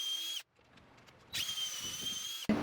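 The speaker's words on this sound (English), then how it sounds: "Put a little clamp right there and then drill it in pretty much." A power drill drives into wood during a van subfloor and framing build, two short high-pitched whirring bursts close by, separated by a quiet pause and ending with a brief final spin-up.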